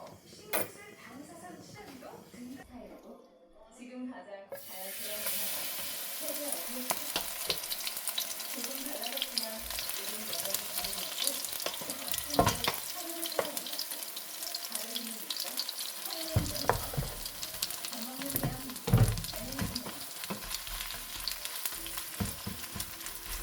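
A Korean chive pancake fries in cooking oil: a quiet opening gives way to a sudden, steady, close sizzle, dotted with sharper pops and spatters that carry on to the end.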